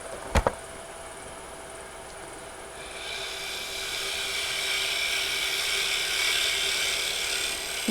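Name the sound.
wood lathe shear scraping cut on small ring box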